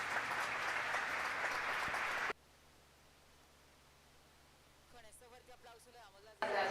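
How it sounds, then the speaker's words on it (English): Conference audience applauding as a panel closes: about two seconds of fairly loud clapping that cuts off abruptly, a quiet stretch, then a faint voice and a sudden burst of noise at the end. "With that strong applause,"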